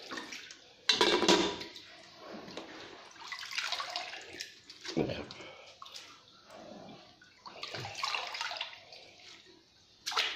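Water is poured off soaked sticky rice being prepared for sweet fermented rice (khao mak), in several uneven splashing pours into a basin, close by and fairly quiet with short pauses between.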